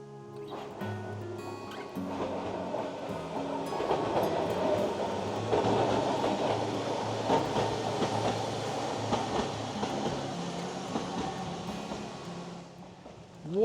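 Hokusei Line narrow-gauge train running on its rails, a steady close rumble with rhythmic wheel clatter holding loud throughout, with no voices.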